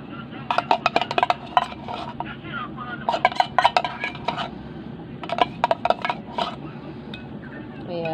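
Graham dessert mixture being stirred in a bowl, with repeated clinks and scrapes of a utensil against the dish in uneven bursts, close and moderately loud, while a person talks over it.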